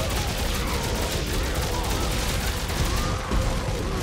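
Gunfire in Dead Space 3 comes as a continuous dense roar of rapid shots and explosive noise, loud and unbroken across the clip.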